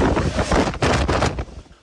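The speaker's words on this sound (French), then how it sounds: "Au sommet de la tour Eiffel, une rafale de vent à 112 km/h est mesurée." Strong wind gusts roar and buffet the microphone during a violent rainstorm in Paris, a loud broadband rush that surges twice and then eases toward the end.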